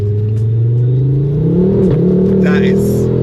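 A Ford Focus RS revs up under hard acceleration, its loud exhaust rising in pitch for about three seconds, close and continuous, with a voice talking over it.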